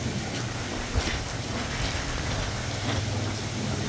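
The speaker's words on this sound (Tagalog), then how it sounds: "Lakas ng ulan." Heavy rain pours steadily during Typhoon Mando, a dense, continuous roar of downpour with no let-up and no voices, close and loud throughout.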